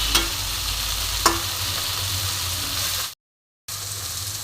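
Round slices of seeded bitter gourd fry in a pan with a steady close sizzle and two brief stirring clicks, the sound cutting out completely for a moment near the end before resuming.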